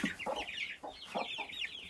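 A flock of month-old chicks, young roosters and hens clucks softly in a backyard coop, a quiet run of short, rhythmic cackles and chirps overlapping in quick bursts.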